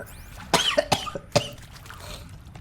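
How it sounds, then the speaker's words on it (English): Several harsh, close coughs come in quick succession, followed by a softer throat clear and faint breathing. "Sorry if some of the coughs remain in the final edit."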